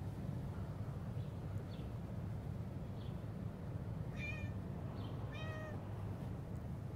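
A stray cat meows twice outdoors, two short clear meows close by, set against a constant low wind-like rumble, with a few faint chirps before them.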